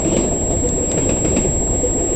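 A CN M302 freight train rumbles steadily in the distance as it moves past, a continuous low roar with a faint hint of wheel clatter and no voices.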